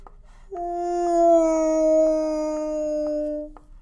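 Person imitating whale noises with a long, sustained, slowly falling tonal moan lasting about three seconds, loud and close, with no other talk.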